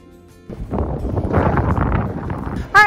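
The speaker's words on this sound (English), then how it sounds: "It's a little windy." Gusty wind buffets the microphone outdoors with a broad rumbling roar, ending in a brief sharp burst.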